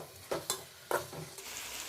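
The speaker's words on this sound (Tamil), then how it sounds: "இது கூட இஞ்சி பூண்டு பேஸ்ட்டு போட்டு நல்லா வணக்கி விட்டுக்கலாங்க." Ginger garlic paste and tomato masala sizzling in a pan, with a few sharp scrapes and stirs of a spoon over a steady frying hiss, close up and without speech.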